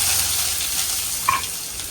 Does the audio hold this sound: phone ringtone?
no